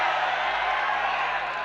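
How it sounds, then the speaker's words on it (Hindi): Audience applause at a mushaira poetry gathering in Hyderabad, a dense continuous wash of clapping with scattered cheers and whoops, steady and fairly loud from start to finish. "एक बार जोरदार तालियां।"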